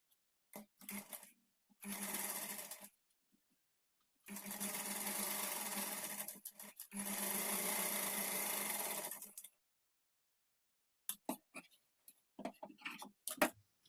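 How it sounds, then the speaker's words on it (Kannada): A sewing machine stitches a folded strip along the back neck of a blouse in several running bursts, with short pauses and light handling clicks between them, close by and with no talking. "ಈಗ ಇನ್ಸೈಡ್ಗೆ ತಿರುಗಿಸ್ಕೊಂಡು ಈ ಪಟ್ಟಿಯನ್ನು ಒಳಗಡೆಗೆ ಫೋಲ್ಡ್ ಮಾಡಿ ನಾವು ಸ್ಟಿಚ್ ಮಾಡ್ಕೊಳ್ಬೇಕು."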